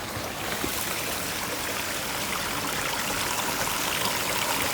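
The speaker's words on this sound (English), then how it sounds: "So there's our waterfall," A garden pond waterfall runs after an overhaul, giving a steady close rushing splash of falling water that stays loud and unchanging throughout.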